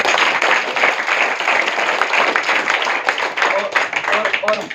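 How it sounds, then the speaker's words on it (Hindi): An audience at a student success event claps in a dense, continuous round of applause, loud and close, with voices mixed in. "एक बार तालियों बजा दो"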